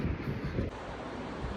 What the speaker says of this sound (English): Very cold day to be out here, very windy